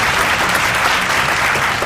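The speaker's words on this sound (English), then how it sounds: "A round of applause." Sustained, fairly loud clapping from a crowd at a secondary school radio debate competition, dense and even for the whole short stretch with no voices over it.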